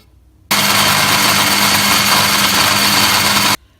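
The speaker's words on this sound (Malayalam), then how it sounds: "പിന്നെ ഉപ്പ്, ഇത്രയും ഇട്ട് ഒന്ന് ബ്ലെൻഡ് ചെയ്തെടുക്കാം." An electric blender whirs mayonnaise ingredients with salt in one loud, steady burst of about three seconds, starting and stopping abruptly with nothing else heard.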